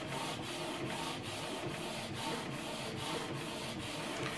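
A Canon TS9155 inkjet printer runs an alignment page, making a continuous mechanical whirring and rubbing churn with regular pulsing strokes of the print head, close and steady throughout.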